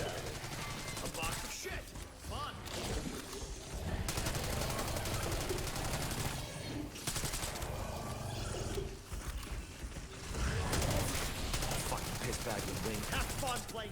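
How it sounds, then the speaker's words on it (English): Heavy gunfire in Black Ops 6 zombies, shooting off locks inside the Citadel des Morts map, bursts of automatic fire blended with roaring creatures and dense game effects throughout, loud and sustained. "Go ahead and shoot off these locks."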